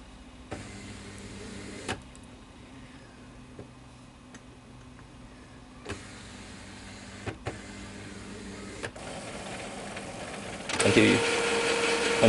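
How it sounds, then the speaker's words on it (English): An Epson inkjet printer with an ink supply system powers up: a low steady hum with a few scattered mechanical clicks, then a louder whirring motor burst near the end, close by and without talk. "Okay, we turn on the printer."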